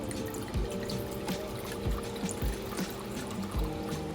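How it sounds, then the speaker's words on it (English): Wine trickles and splashes into a measuring jug in a kitchen, soft and close, with small gurgling pulses as it fills. "because I over poured with the wine"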